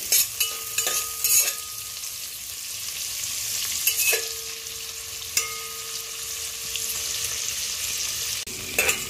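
Steady, crackling sizzle of cashews and raisins frying in ghee in a pan, with a few sharp clinks and scrapes from stirring.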